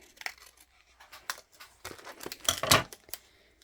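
Paper for a mixed media background is cut off, with scattered close snips and papery rustles building to a louder crinkling burst near the end.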